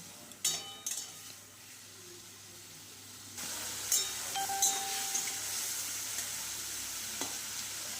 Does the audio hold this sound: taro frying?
yes